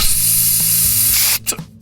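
An aerosol spray can hisses in one loud, steady, continuous blast that cuts off abruptly, followed by a few brief, sputtering puffs, heard up close with no talking.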